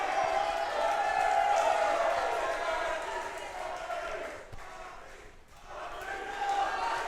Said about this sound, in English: Crowd now firmly behind Valentine here, who's grabbing the ladder